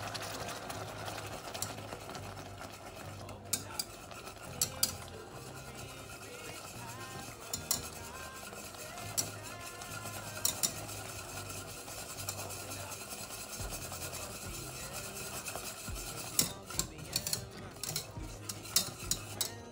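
Caramel sauce whisked in a pot with a long whisk, a steady scraping, stirring rhythm with frequent metallic clinks and taps against the pot, close and moderately loud throughout.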